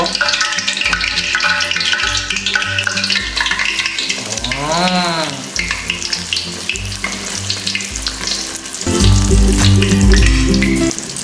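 Eggplant omelette, tortang talong, frying in a hot pan, with a loud continuous sizzle and crackle close by, swelling stronger near the end, with background music playing throughout.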